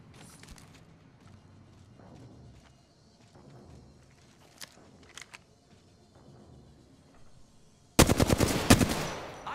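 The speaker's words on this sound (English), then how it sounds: "I shot down a cargo bot." Burst of rapid gunfire bringing down a cargo bot in Apex Legends, loud and dense in the last second and a half after quieter game sounds and scattered clicks.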